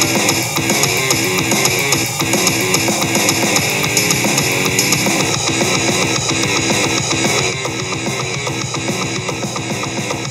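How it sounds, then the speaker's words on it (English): Guitar Pro software playing back a loud, distorted mathcore metal composition: dense, continuous full-band playback with pounding rapid drums and heavy guitars, steady and loud throughout, with no talking. "I got a sound check to make sure you can hear the Guitar Pro right now"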